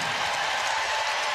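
Basketball crowd at a Houston at UConn women's college game applauding a senior player, a steady broad wash of clapping filling the arena evenly throughout, loud and sustained with no voices standing out.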